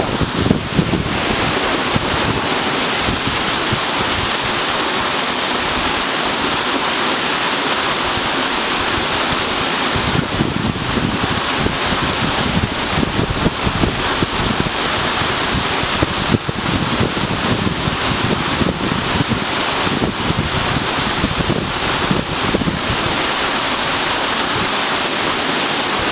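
Barry Falls waterfall rushes in a loud, steady roar of falling water that continues unbroken, with gusts of wind buffeting the microphone and no voices.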